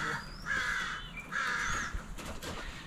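A hawk calls outdoors, giving two drawn-out, raspy cries about a second apart, fairly distant and faint, with nobody talking.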